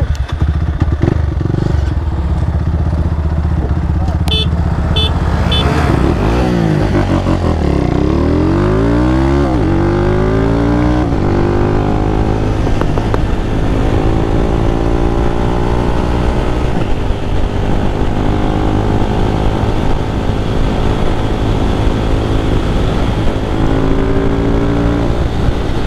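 A Honda Pop 110i and a Honda Biz 125 run at top speed, their engine drone rising and falling as one passes close and the pitch sweeps, then a loud steady high-revving whine holds to the end.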